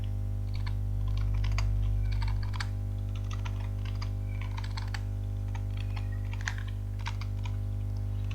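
Steady typing on a computer keyboard: irregular clusters of close, crisp key clicks over a constant low electrical hum, with no talking.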